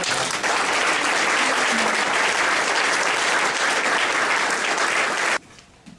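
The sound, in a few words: audience applause for donor companies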